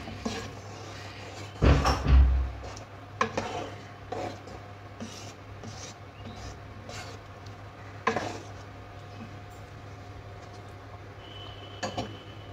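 Basanti pulao with ghee being stirred in a pot, heard as scattered scraping and clinking of a spoon against the pot, with one louder clatter early and quieter rubs afterward, no talking.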